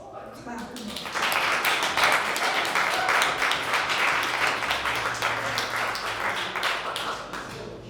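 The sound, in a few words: audience applause for poet M. D. Friedman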